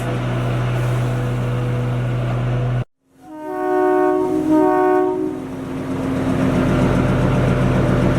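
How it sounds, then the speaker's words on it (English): A British-era train near Shimla station in the Himalayas rumbles steadily, broken by a brief silent cut, then a long two-tone horn blast sounds close and loud before the rolling rumble resumes. "शिमला जो स्टेशन है, ये ट्रेन है, ये ब्रिटिश टाइम की से चली हुई है"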